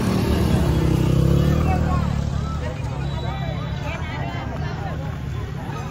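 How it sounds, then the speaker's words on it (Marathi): A dense crowd at the Kumbh Mela makes a steady, loud hubbub of many overlapping voices, with nearer talk and a background rumble in the mix. "बापरे काय गर्दी आहे."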